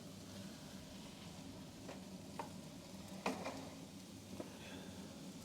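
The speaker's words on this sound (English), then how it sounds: "Onions sizzling away on the cast iron." Chicken and onions sizzle faintly in a cast iron pan, a soft, steady frying hiss broken by a few light pops and utensil taps.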